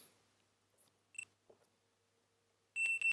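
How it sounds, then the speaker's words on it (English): A multimeter probe taps pins on a PlayStation 1 PU-8 motherboard. A few faint clicks in a quiet room end with a short, bright continuity beep. "we're gonna test with the multimeter and see where does this pin go"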